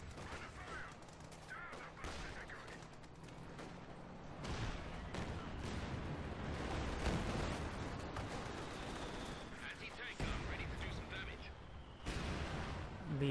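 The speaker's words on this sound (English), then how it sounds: "Katusha's coming over here." Katyusha rocket artillery barrage in Company of Heroes 2, a dense run of overlapping booms and crackling blasts with a battle din behind it, heard under a caster's steady commentary.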